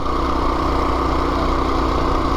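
A Princess Auto Drift Hero minibike's 212cc single-cylinder engine runs steadily at close range, giving a loud, continuous buzzing drone with no talk.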